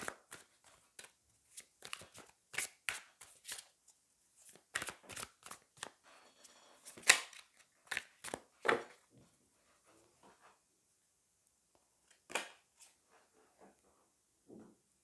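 Tarot cards handled and a card drawn during a French-language reading, soft close shuffling, sliding and tapping sounds in irregular bursts, fairly quiet, with some brief sounds between them.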